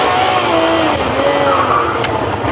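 Ferrari 599 GTO engine and exhaust heard from inside the passenger compartment, a steady loud drone with rising and falling tonal whine as revs change, brief and continuous with no break.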